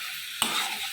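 Spice paste frying and being stirred in hot oil for a tadka gives a brief steady hiss, with one soft scrape of stirring partway through. No voices.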